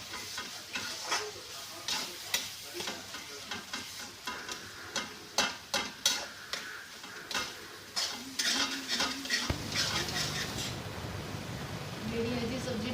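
Vegetable sabzi cooks in a pan on a low flame: close, repeated scrapes and clinks of a spoon stirring against the metal, with a soft sizzle running underneath.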